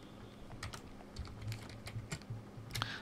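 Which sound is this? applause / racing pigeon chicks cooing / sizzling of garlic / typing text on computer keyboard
typing text on computer keyboard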